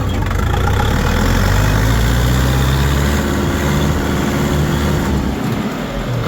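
A Kentavr mini tractor engine runs steadily at close range, a continuous low rumbling chug that holds even throughout without pauses.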